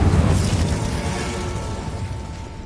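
An Incendio fire spell cast in a video game, a loud, close burst of roaring flame and crackling that hits immediately and then trails off into a sustained fiery rush over a couple of seconds.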